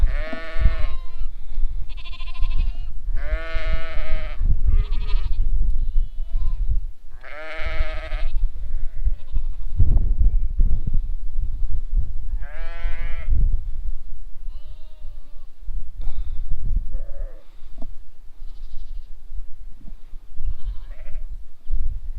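A sheep and her newborn lamb bleat repeatedly close by, loud wavering cries mixed with thinner, higher calls from the lamb, over outdoor wind noise.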